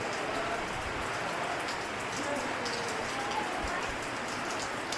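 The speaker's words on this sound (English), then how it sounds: "It's been raining all day." Steady rain patters on a hard surface, a dense, even hiss of drops with occasional louder splashes, continuing without a break.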